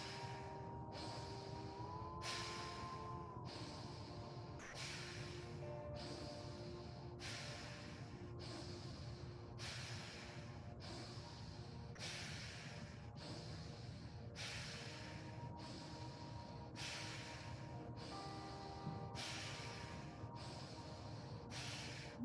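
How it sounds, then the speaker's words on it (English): Kapalabhati breathing in a yoga session, forceful rapid exhales through the nose repeated about twenty times in an even rhythm, close and clear, each a short sharp nasal burst with faint background tones. "So moving into the Kapalabhati breaths 20 times."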